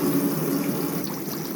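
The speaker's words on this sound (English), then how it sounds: "There we go, hot water coming out the tap" Hot water running from a tap in a Swift Ace Globetrotter caravan, a brief steady gushing stream close by and fairly loud, with no talking.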